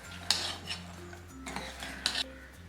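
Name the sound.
stirring fried snack in hot sugar syrup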